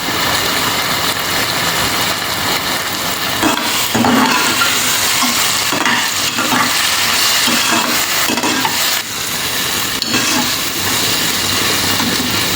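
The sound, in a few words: onions and ginger garlic paste sautéing in a pan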